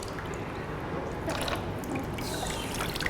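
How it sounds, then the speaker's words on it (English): Tap water runs over hands to rinse off soap at a sink, a continuous trickle with small splashes and drips, moderately loud, and no one speaks. "We're using water to take off the soap."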